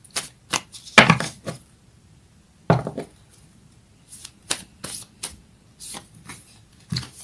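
A Moonology oracle card deck shuffled by hand, with quick riffling bursts and soft slapping taps of the cards coming in irregular clusters, close and fairly crisp.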